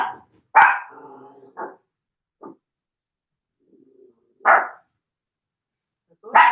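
An indoor pet dog lets out several loud, close barks, one trailing into a brief growl or whine, then a pause and two more sharp barks, with no one speaking.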